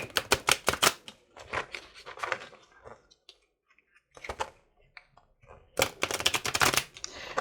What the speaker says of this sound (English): I am not good at shuffling these cards.